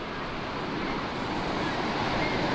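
Roaring river water at Niagara Falls, Ontario, a steady broadband rush that fills the whole stretch at an even level with no breaks, heard close and alone.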